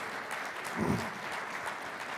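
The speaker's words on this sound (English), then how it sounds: "maybe we could just give a round of applause to all the business associates that are here helping support the U.S. Conference of Mayors" Conference audience applause for business associates at the U.S. Conference of Mayors, a moderate, even patter of clapping in a large hall, heard alone for a couple of seconds.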